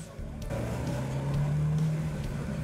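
Fiat 124 Spider roadster with a 1.4-litre turbo engine, a fairly discreet, steady drone that rises slightly in pitch as it pulls, heard from inside the car.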